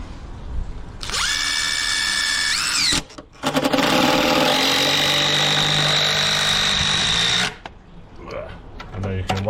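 Power drill driving screws into a 10cm timber sleeper during a pond build, two sustained loud whining bursts separated by a brief pause, followed by a quieter tail.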